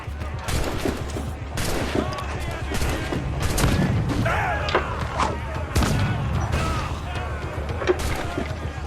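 Ship cannons firing in Assassin's Creed IV Black Flag, a steady barrage of booming shots and crashes that keeps going for the whole stretch, loud and dense, with voices faintly underneath.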